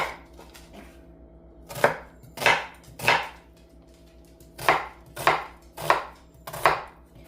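Celery and onion being chopped into small pieces on a board, with about eight crisp, close knife strikes in uneven bursts over a faint steady background hum.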